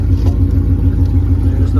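Whipple supercharged Mustang engine idling after being jump-started from a dead battery, a loud, steady low rumble close to the microphone with no voices over it.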